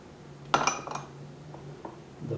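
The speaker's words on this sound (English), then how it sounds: "I'm just going to continue to stir it to mix it up a little bit" A metal spoon scrapes and clinks against a pot of homemade chili with chili powder, cumin and black pepper, one sharp clatter followed by a few lighter taps in a quiet kitchen.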